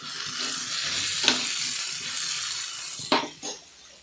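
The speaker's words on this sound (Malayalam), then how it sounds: "ഇതിങ്ങനെ ഇളക്കി കൊടുക്കുക അടിയിൽ പിടിക്കാണ്ട ഓവർ കരിയാണ്ട് ആക്കിയിട്ട്" Food fries in a pan on the stove with a steady, close sizzle, while a utensil stirs it and scrapes against the metal a few times.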